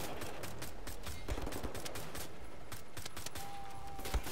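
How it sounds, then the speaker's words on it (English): Assault rifle gunfire in Wolfenstein, sustained rapid bursts of shots forming a dense, steady barrage throughout. "Oh, that's a little assault rifle."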